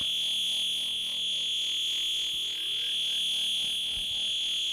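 A Buchla 297 Infinite Phase Shifter self-oscillating at high resonance: a steady, piercing whistle-like tone rings continuously, with a swirling, sweeping filtered texture moving underneath it.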